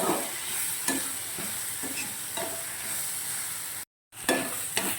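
Vegetables with turmeric sauté in a hot pan for rava kichadi with a steady sizzle, punctuated by periodic scraping stirs; a brief silent cut near the end.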